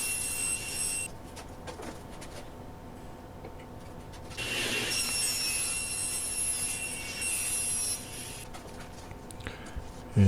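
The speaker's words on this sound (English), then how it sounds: "now I'm cutting that 1/4 inch plywood that's going to be the back panels" A saw cuts quarter-inch plywood back panels for a liquor cabinet with humidor, giving a continuous high whine and rasp with a louder stretch partway through, ending in a short knock.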